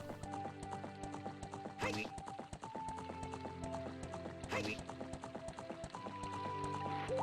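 A horse in the video game Ocarina of Time randomizer gallops with quick, even clip-clop hoofbeats that run throughout. Game music plays under it, and two brief whooshing bursts break in along the way.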